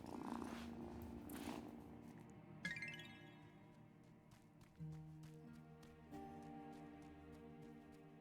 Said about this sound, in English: what a good purr.